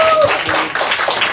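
A short burst of applause closes a book discussion event, with hands clapping quickly and densely after a brief tone at the start.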